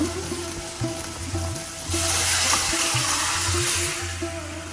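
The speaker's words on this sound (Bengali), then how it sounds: "এখন আমি তরকারিগুলো ঢেলে দিব।" Vegetables poured into masala frying in oil for a fish and eggplant curry, a close sizzling hiss that swells louder as they hit the pan, over a low steady hum, no talk.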